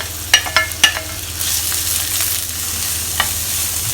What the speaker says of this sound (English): So I'm going to fry them until they caramelize and are soft